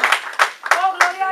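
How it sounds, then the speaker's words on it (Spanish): Hands clapping in a church congregation, a few sharp claps at a steady beat, close and fairly loud, with a voice speaking between them. "Dale un aplauso al Señor"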